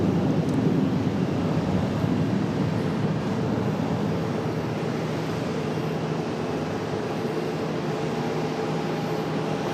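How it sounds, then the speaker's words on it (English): A Boeing 777-300 jet arriving from London Heathrow at Charlotte airport gives a steady, broad, continuous roar with a faint sustained tone, like a distant airliner on approach, with no voices. "here comes our 777-300 from London"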